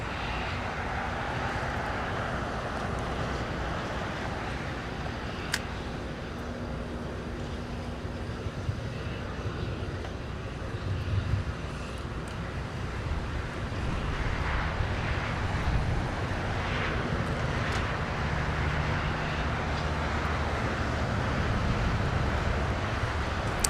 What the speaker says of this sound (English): All Nippon is taking off.